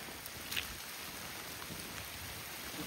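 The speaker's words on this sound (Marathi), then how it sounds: "भरपूर पाऊस येतोय आता" Heavy rain pours steadily in a rural outdoor setting during a storm, a dense, even hiss of drops without pause, fairly faint and distant-sounding, with no talking.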